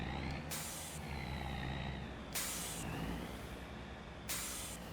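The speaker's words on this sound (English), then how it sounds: "is that what that air hissing sound was earlier?" Loud repeated air-brake hisses from a parked trailer unloading in the Farming Simulator 25 video game, three sharp bursts of air spaced about two seconds apart over a low, steady engine rumble.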